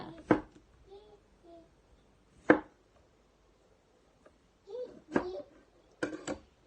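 Several sharp, separate knife chops cutting seed potatoes into pieces on a hard surface, spaced a second or two apart, with quiet speech and a voice between them.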